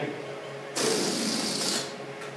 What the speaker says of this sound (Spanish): Voy a dejar que salga el aire.